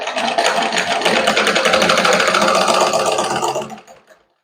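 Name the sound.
sewing machine stitching a blouse neck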